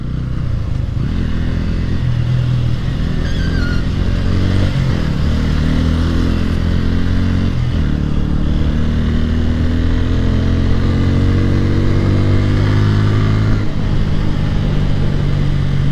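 A Yamaha MT-15 motorcycle races along an expressway, its engine droning loud and steady as it rises and falls through the gears, with rushing wind and passing traffic around it.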